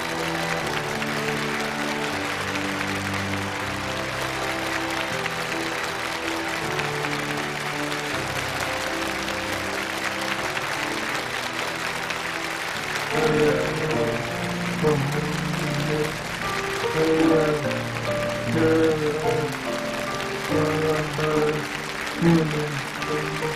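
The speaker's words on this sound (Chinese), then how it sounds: "再次掌声感谢董卿评委" Sustained audience applause fills a Chinese TV studio on a challenge show, steady and loud for the whole stretch with music running beneath it.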